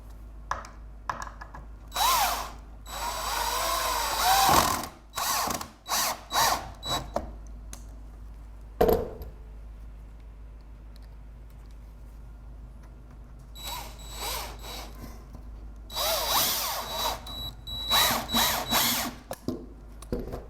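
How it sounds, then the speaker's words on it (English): A cordless power drill drives screws into pre-drilled, countersunk pallet wood for a smokehouse, with several whirring bursts of varying length separated by quiet pauses. "Now that I have my 2 holes drilled, go ahead and put my screws in."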